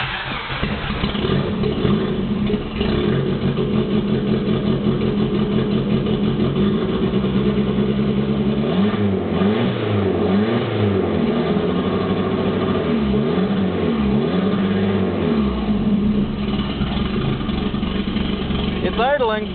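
A Dodge Neon engine fitted with a new MS engine-management setup runs steadily in a closed garage after being started with some gas, its loud continuous drone rising and falling as the throttle is blipped, with occasional talk over it.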